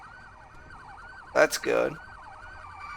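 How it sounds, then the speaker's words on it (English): Emergency vehicle sirens wail in the Emergency 4 video game Camden County mod, a steady cycling electronic tone with a brief spoken remark cutting in midway. "Man, those sirens"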